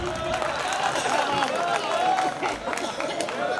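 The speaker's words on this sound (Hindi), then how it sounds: "जरा तालियां बजा दीजिए" Audience at a kavi sammelan poetry gathering applauds, a continuous wash of crowd clapping with murmuring voices and a speaker talking underneath.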